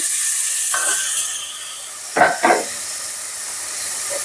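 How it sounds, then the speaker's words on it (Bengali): Water poured onto spices frying in a pan: a loud, steady hiss of steam and sizzle throughout, with a couple of sharper bursts near the middle, close up and with no talking. "পানি দিয়ে দিলাম মশলা কষানোর জন্য"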